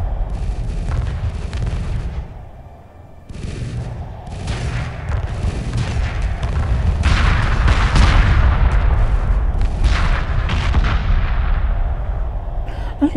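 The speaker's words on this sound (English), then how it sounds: "Okay, now those explosions are great." Homeworld Remastered space combat fills the mix with rolling booms and rapid gunfire-like bursts, a brief dip near three seconds, then a sustained, loud barrage of overlapping explosions.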